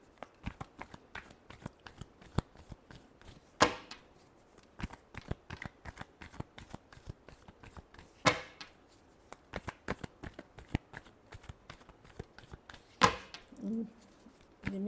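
A tarot deck shuffled close up, giving rapid dry riffling flutters in a steady run, broken by a few louder card slaps every few seconds, with no voices.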